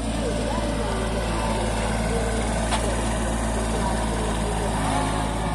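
A Kubota 211N tractor working a rotavator through grass, its engine running as a steady, dense drone that fills the whole stretch at close range without letting up.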